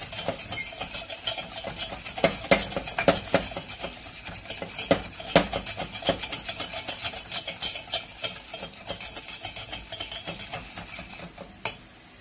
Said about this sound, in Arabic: غادي نزيد 2 كوتشارات ديال الطحين وغادي نحرك ديريكتومون